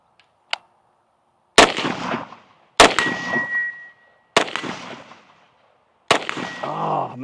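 Rifle shots from a SIG MCX Spear LT fired at targets downrange outdoors, one faint early crack then four loud sharp reports spaced a second or more apart, each ringing and rolling off into echo.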